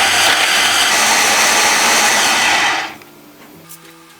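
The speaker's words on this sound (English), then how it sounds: "Then we add a little water and blend until smooth." A blender whirs loudly and steadily, blending beans, peppers, onions, crayfish, stock cube and water into a smooth mix, then cuts off near the end, leaving a faint room hum.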